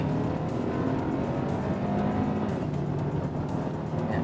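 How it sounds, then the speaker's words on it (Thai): A BMW 220i Gran Coupe M Sport in sport mode accelerates hard from standstill toward 100 km/h, its engine note droning loud and steady throughout with rising tones and no talk. "วันนี้เราทำเป็นสปอร์ตโหมดให้ดูนะครับว่า 0ูนย์ถึงร้อยเป็นยังไงนะครับ"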